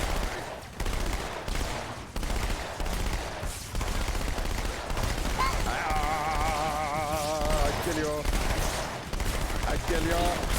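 Dual SMGs in Halo 2 fire in rapid, sustained automatic bursts, dense and loud, with chaotic battle noise and a brief whirring tone mixed in.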